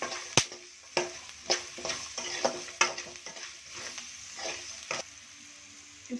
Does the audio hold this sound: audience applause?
no